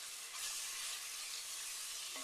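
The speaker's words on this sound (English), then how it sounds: "this is kind of frying up" Ground beef or sausage frying in a pan for spaghetti sauce gives a steady, faint broadband sizzle with no talk.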